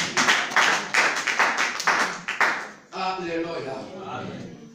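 A church congregation claps in a quick, rhythmic series of sharp hand claps for about three seconds, then the clapping gives way to voices.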